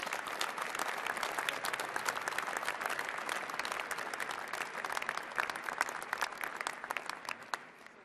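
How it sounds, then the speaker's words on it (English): Audience applause at a fall university commencement ceremony honoring master's degree recipients, a dense, steady clapping from a large crowd that holds evenly for about eight seconds and thins slightly toward the end. "Please join the Dean in a round of applause for all our master's degree recipients."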